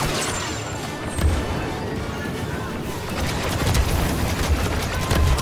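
A squad fires a dense barrage of blaster shots in Star Wars Battlefront 2, with a crash and a boom in the loud, continuous battle noise while voices talk over it.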